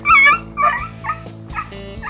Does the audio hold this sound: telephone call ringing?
no